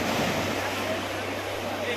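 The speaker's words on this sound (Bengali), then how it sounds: "ওই ঢেউগুলো দেখো।" Surf rolls in at New Digha beach as a steady, fairly loud wash mixed with gusty wind buffeting the microphone.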